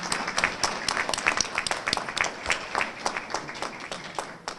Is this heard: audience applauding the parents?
yes